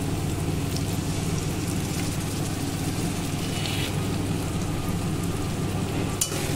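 Tomato paste and ginger-garlic paste sauté in hot oil for a katla fish curry, making a continuous, even, rain-like hiss with one sharp tap near the end.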